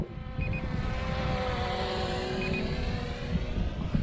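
A RUKO F11 PRO drone flies outdoors in gusty wind, with a steady motor whine carrying faint tonal lines under a heavy, continuous blustering of wind noise on the microphone.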